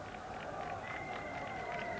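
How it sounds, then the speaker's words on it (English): A joyful Indian section of the crowd cheers at the 1983 World Cup semi-final between England and India at Old Trafford, a steady distant roar of voices with a commentator talking over it. "Joyful Indian section of the crowd."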